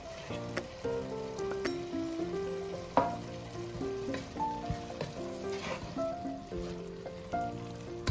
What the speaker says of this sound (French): Là, maintenant, on va remuer le tout.